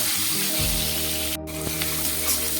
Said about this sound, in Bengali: আর দিয়ে দিচ্ছি টমেটো।